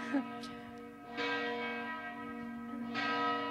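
A church bell tolls at midday, a sustained ringing hum with repeated strikes about every couple of seconds, fairly loud and without talk.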